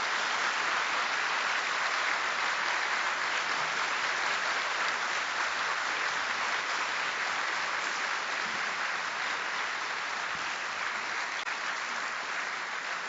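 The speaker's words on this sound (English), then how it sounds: "Please give him a round of applause before I read." A hall audience gives a long, sustained round of applause for Placido Domingo at an honorary doctorate ceremony, with dense, even clapping throughout and no voices over it.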